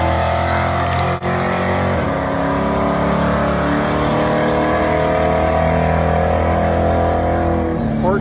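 A turbocharged Chevrolet Cavalier Z24 with a 3.1 V6 makes a drag strip run. Its engine drones loud and steady throughout and swells as it revs near the end.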